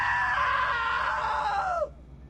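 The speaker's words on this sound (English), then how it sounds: "Now that was a great scream." A woman's long, sustained scream sounds in the video game What Remains of Edith Finch, holding steady and then sliding downward before cutting off abruptly into quiet.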